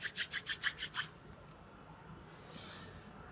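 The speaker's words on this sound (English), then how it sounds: "Gently rub your palms one against each other." Palms rubbed briskly against each other during a yoga meditation, close and soft, seven quick rhythmic swishes in the first second, then quiet room tone.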